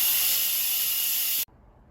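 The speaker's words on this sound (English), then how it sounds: "so let's quick release the steam." An Instant Pot vents steam on quick release after cooking red potatoes, a loud, close, steady hiss that cuts off abruptly, leaving faint room noise.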